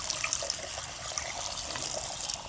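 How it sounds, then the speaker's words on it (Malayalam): Water is poured into a container of washed leaves, a continuous close, bright splashing trickle that runs steadily and alone. "ഇനി നമ്മളിതിൽ കുറച്ച് വെള്ളം ഒഴിക്കുക അത്ര വേണ്ടത്."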